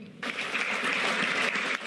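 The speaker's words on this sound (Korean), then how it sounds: "이창용 한국은행 총재 등은 동의한다며 박수를 보냈습니다" Central bank officials, including the Bank of Korea governor, applaud for Jay Powell, a sustained burst of clapping that starts abruptly and holds steady, fairly close.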